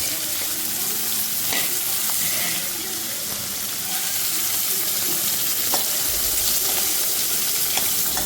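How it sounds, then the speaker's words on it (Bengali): Onions go into hot oil already seasoned with whole garam masala and dried red chillies, giving a steady, close sizzle with occasional stirring clicks and no talking. "ফোড়নটা একটু নাড়াচাড়া করে হয়ে গেলে তার মধ্যে দিয়ে দিলাম পেঁয়াজ"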